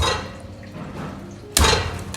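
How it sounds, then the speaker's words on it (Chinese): A cleaver chops the nails off soaked broiler chicken feet on a board: one sharp, loud thud near the end after a quiet, faintly wet stretch. "把浸泡过的鸡爪剁去指甲不要，"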